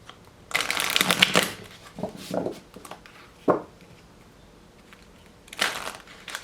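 Tarot cards are shuffled by hand in three quick riffling bursts with pauses between, close and crisp, no talking.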